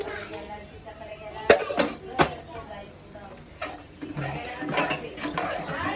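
Mutton masala, turmeric and homemade red chilli powder being stirred into a pot for mutton rassa: a few sharp clinks of a spoon against metal among softer scraping and shuffling, close by, with no talk.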